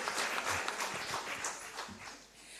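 Applause from a conference audience at a women in financial markets event, a short, moderately faint patter of clapping with no talk over it.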